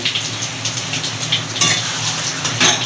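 Masala frying in hot oil on a medium flame for chicken rezala, with water poured in for a loud, steady sizzle and crackle, broken by a few louder bursts of spitting, and no voices.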